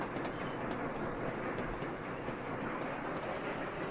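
Trains rumbling along rails in the video game Sweet Transit, a steady clickety-clack of wheels and cars rolling past at constant loudness, with no voices.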